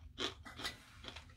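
Three or four dry, brittle crunches from chewing a cooked, dehydrated chickpea, close and quiet, with nobody talking.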